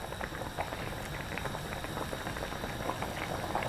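Asam pedas tilapia fish stew boils in a pot, a steady close bubbling and popping at moderate-low level with no voices.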